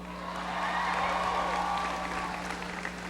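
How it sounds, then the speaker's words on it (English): Applause from a university audience at a presidential education speech, a steady broadband patter of many clapping hands filling the room for about three seconds, fairly loud with a constant electrical hum beneath. "Give Brian a big round of applause for the introduction"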